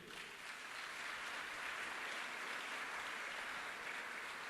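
A church congregation at a Sunday service applauds steadily for several seconds, a dense, even wash of clapping heard at a distance and fairly faint, with no talking over it.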